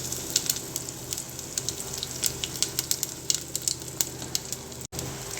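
Mustard seeds spluttering and popping in hot oil while tempering for a Tamil brinjal kuzhambu, a steady crackling sizzle with scattered sharp pops throughout, no talking.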